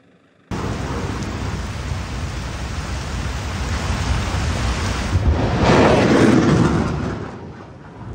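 Steady, dense rush of heavy rain at a military rocket artillery training exercise at sea, loud and continuous, swelling slightly in intensity partway through before easing a little.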